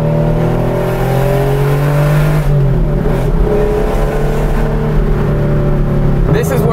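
An RWB Porsche built for mountain roads revs hard while driving, engine pitch rising and shifting through gears, loud and close with people talking over it.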